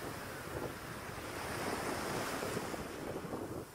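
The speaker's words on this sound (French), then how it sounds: "Simplement le son des vagues et du vent" Ocean surf and wind on a remote shore in the Cook Islands, a steady wash of breaking waves with gusty wind buffeting the microphone, loud and continuous with no voices.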